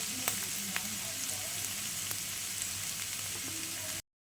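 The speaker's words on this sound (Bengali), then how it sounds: "আমার চাউমিনের জন্য সবজি ভাজা হয়ে গেছে।" Vegetables for chow mein fry in a pan with a steady, even sizzle and a few faint pops, then the sound cuts off abruptly.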